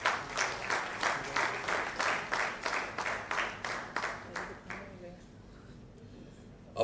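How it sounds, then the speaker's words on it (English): Audience applause at a property launch event with Anil Kapoor, a loud, close round of clapping pulsing in regular waves for about five seconds before fading out to near quiet. "Please give them a huge round of applause."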